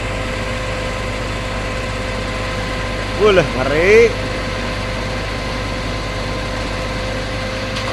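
A concrete pump engine runs at a steady idle, a constant low humming drone close by, while a person briefly exclaims partway through.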